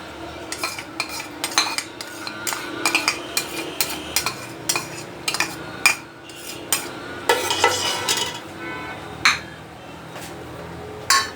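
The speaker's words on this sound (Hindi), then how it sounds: "ये मैं तकरीबन 3 चम्मच घी के डालूँगी और इसका सबसे पहले मसाला भूनेंगे" Masala being fried and stirred in about three spoonfuls of ghee for a paya curry, with a spoon scraping and clinking against the pot in an irregular rhythm over a steady sizzle, close and alone.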